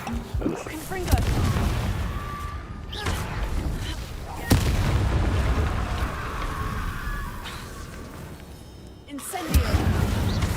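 Confringo blasting-spell explosions in Hogwarts Legacy, a few heavy booming bursts with sharp onsets at roughly one, four and a half and nine and a half seconds over continuous rumbling combat noise, with some talk.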